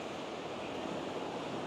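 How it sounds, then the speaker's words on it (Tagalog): Strong ocean waves surge on Boracay beach by Crimson Resort & Spa, a loud, continuous broadband wash with wind mixed in and no talking. "Ang lakas din pala ng alon dito sa part na to."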